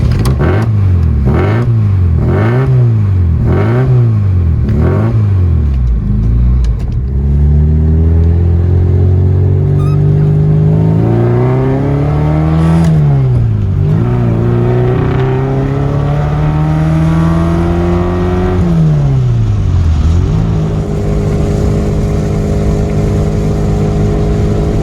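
A lightweight TVR Vixen S2 sports car with a Ford Pinto engine drives past, its loud engine note revving up and down through repeated gear changes, then settling into a steady, rising drone close by.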